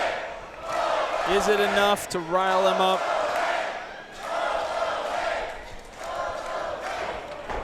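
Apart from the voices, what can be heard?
wrestling crowd cheering for Hobo Hank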